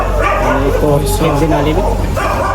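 Dogs bark and yip in a dense, loud cluster of overlapping calls, nearby, with voices talking in the background, during a late-night outing.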